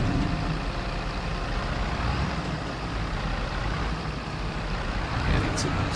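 A tractor or truck engine runs steadily in Farming Simulator 22, a continuous low rumble with broad noise, heard from a distance across the fields.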